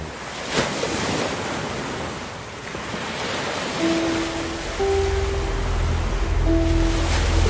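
Continuous wash of surf with waves breaking, broad and rushing, with some wind noise and a low tonal hum entering partway through.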